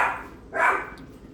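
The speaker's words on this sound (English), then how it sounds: "Sorry, my dogs are going nuts." Several dogs bark in a loud burst indoors, a short cluster of yelps and barks peaking midway before trailing off, with no talking over them.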